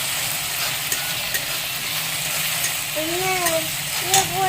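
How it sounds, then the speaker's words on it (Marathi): Chopped tomatoes sauté in a pan for masala Maggi, a steady sizzle and frying hiss with occasional stirring scrapes, close and continuous, with faint background chatter. "छान चॉप करायचे आहेत टोमॅटो आणि टाकायच्या त्याच्यामध्ये आणि व्यवस्थित परतून घ्यायचं आहे"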